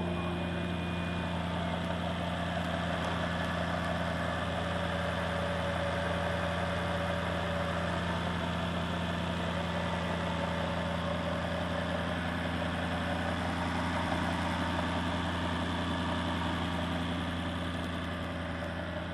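A 2012 Maserati GranTurismo convertible's V8 engine idles with a steady, even low hum that holds unchanged throughout, with no talking.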